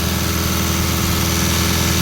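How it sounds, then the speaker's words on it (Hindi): A tractor engine with a modified fuel pump runs steadily at raised RPM, a loud close continuous drone with an even mechanical vibration and no talk. "कितनी पावर बढ़ाना है अपने ट्रैक्टर की। ये इनने RPM इंक्रीज कर दिए इसको"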